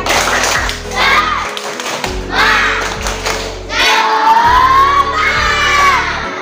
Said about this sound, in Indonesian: ayo silakan tepuk semangat dulu biar lebih semangat. Tepuk semangat.